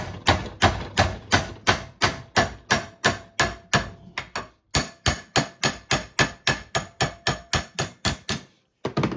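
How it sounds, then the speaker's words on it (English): Sharp metallic hammer blows on a steel bar held in a vise ring out in a steady rhythm, about twenty-five strikes in quick succession with a brief pause midway, loud and close. "Hammer it"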